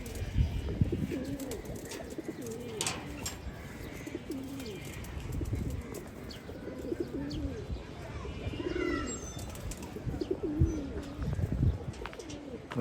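Chila pigeons, just landed from flying, coo steadily in a loft, several birds overlapping in soft repeated rolling calls with occasional chirps, close by and continuous.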